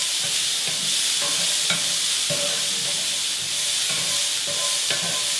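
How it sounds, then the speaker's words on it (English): Green beans being stirred in a hot pan for almond chicken, with a steady close sizzle and frying hiss under repeated scraping and clattering strokes of the utensil throughout. "Give it a good stir."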